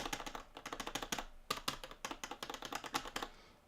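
Rapid clicking of buttons and lever on a Razer Panthera arcade stick, Street Fighter V Edition, with Sanwa buttons: dense, close, crisp taps in quick irregular bursts through the whole stretch, with no voices.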